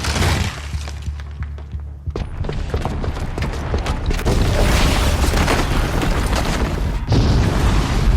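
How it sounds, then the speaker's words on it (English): A booby-trapped bomb in Horizon Zero Dawn goes off with a deep, heavy boom, followed by a long, loud rumbling roar of debris and blast noise that swells and holds for several seconds. "the booby trap on the bomb downstairs is gonna get set off"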